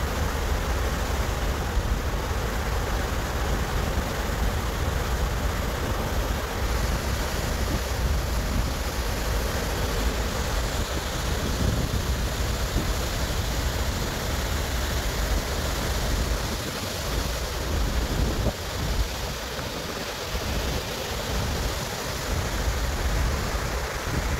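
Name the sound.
sea waves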